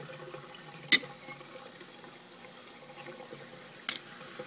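Water runs steadily into the drain of a large aquaponic grow bed, which sits flush with the bed's bottom behind a 6-inch media guard. The trickle is soft and continuous, with two brief splashes or clicks standing out.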